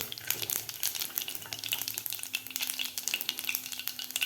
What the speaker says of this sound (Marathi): अर्धा चमचा मोहरी अर्धा चमचा जिरं जिरं आणि मोहरी आपल्याला व्यवस्थित फुलू द्यायची आहे